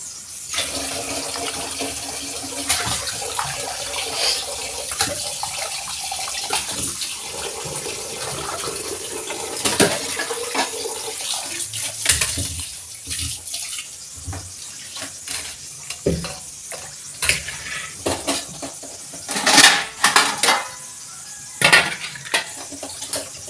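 Food is rinsed under a running kitchen tap, with water splashing and pots, dishes and utensils clinking and knocking intermittently, fairly close, with no talk.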